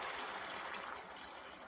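Apple juice being poured into a pot, a continuous soft splashing trickle that stays even and fairly quiet for a couple of seconds.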